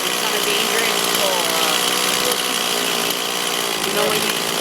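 A Log Wizard power tool chews into a log with a loud, continuous buzzing roar that holds steady throughout, close up and dense, with a few faint rising whines over the grinding.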